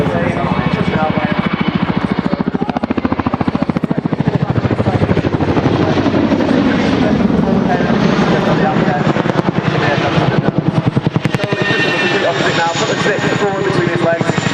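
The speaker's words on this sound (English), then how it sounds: "unlike the conventional helicopter, the Chinook is slightly different with its tandem rotate" An RAF Chinook HC4 tandem-rotor helicopter flies at the Dunsfold Wings & Wheels 2015 air show, its loud continuous rotor thump and engine roar filling the air while a commentator speaks over it.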